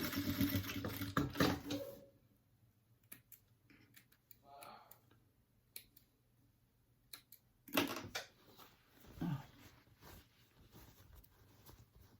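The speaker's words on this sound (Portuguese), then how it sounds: "Então, agora eu viro e faço só uma costurinha aqui na beirada." A sewing machine stitches along the edge of a dish towel in short, loud bursts of rapid ticking separated by quiet pauses, while a person talks between the runs.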